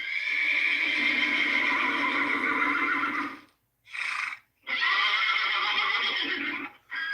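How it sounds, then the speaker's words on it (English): Horses in a computer game whinny loudly and at length, one long neigh followed by a short break, a brief second call, then another sustained neigh trailing off near the end. "Let's get the horses going. Come on, horses."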